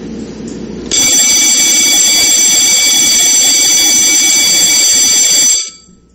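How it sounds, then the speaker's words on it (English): An electronic bell siren like a school fire alarm bell rings as one loud, unbroken, harsh buzzing tone for several seconds, then cuts off abruptly. "This siren is a bell siren. It's just like bell used in school, the fire alarms."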